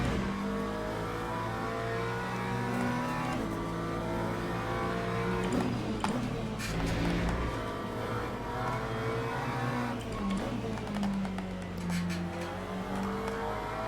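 GT3 race car engines roar continuously in the Le Mans Ultimate sim at Portimao, with steady high-revving drone, gear shifts and rising and falling pitch as cars run close together, loud and without talk.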